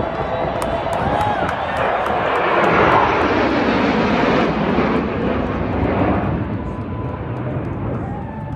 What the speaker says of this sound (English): Here's the flyover.